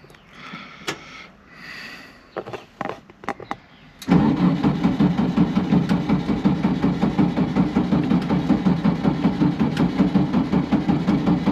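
A Volkswagen Beetle engine turns over in a few uneven, sputtering bursts, then catches and settles into a loud, steady, rhythmic running beat close to the mic.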